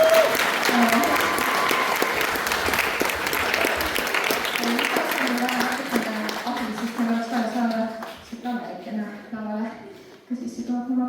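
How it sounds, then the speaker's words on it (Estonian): A crowd at a dance studio's end-of-season concert claps loudly and continuously. The applause thins out after about seven seconds, and a single voice then rises over the last scattered claps. "Kutsume ühe suure aplausiga lavale Miia."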